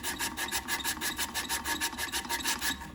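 Emery cloth is pulled back and forth over a rusted blower wheel shaft, giving a fast, regular rasping scrub of about six strokes per second, close and steady, with no talking.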